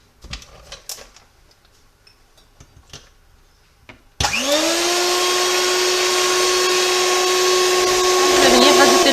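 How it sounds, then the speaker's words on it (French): Electric mixer whipping egg whites into stiff peaks: after a few quiet clinks and handling noises, the motor starts abruptly and runs loud and steady with a whirring whine to the end. "en attendant de faire monter les blancs d'œufs en neige"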